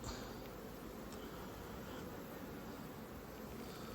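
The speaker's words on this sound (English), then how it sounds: "Trying not to squash any bees." Honey bees buzz densely around a beehive super frame as it is lifted out, a close, continuous droning hum with no pauses.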